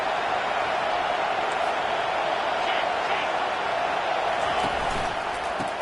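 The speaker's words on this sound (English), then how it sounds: "this crowd is tearing the lid off this place" A packed football stadium crowd roars on third down, a dense, steady wall of cheering and noise that holds at full volume throughout.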